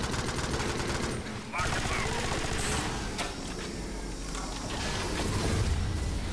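Shotgun gunfire in the Alien Swarm video game, a dense, continuous barrage of loud shots mixed with other weapon fire and game effects, with a voice talking over it.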